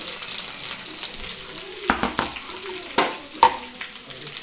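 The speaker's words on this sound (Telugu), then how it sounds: "ఇప్పుడు ఇందులో కాకరకాయలు యాడ్ చేసేసుకొని" Bitter gourd sizzles and crackles steadily in hot oil, with scattered sharper pops and a few clattering stirs close by.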